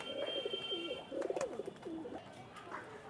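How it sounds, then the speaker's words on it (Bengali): Pigeons of the KTM breed coo softly in short repeated phrases at the Khalishpur pigeon market in Khulna, faint with light market noise behind. "এটা হলো কেটিএম জাতের কবুতর"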